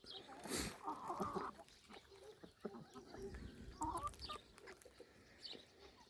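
Feather-footed chickens cluck and softly call at close range in short, scattered bursts over a quiet outdoor background at a coop during morning feeding.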